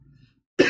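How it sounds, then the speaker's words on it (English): One short, sharp cough bursts out abruptly and close to the microphone after a moment of near silence. "I gotta get rid of this cough"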